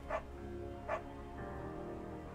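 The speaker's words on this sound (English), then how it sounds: "They're all good dogs, Bront." Two quick, faint dog barks in a video game, about a second apart, over a steady low background hum, with no talk.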